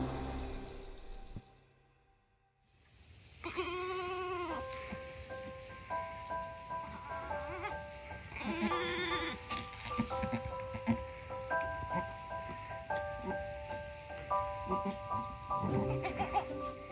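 Dairy goats on a homestead where a doe has just birthed two kids bleat in a couple of wavering cries over steady background music, with low rustling beneath.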